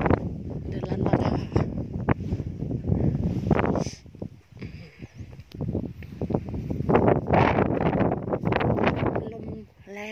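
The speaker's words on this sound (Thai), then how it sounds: "ลมแรงเกินไปค่ะแล้วเมื่อวานก็ฝนตกด้วย" Strong wind on a mountain at Phu Bak Dai, Loei, Thailand, buffets the microphone in a heavy, continuous rumble, with a person talking over it throughout.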